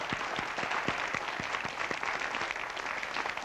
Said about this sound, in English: go on and clap if you'd like to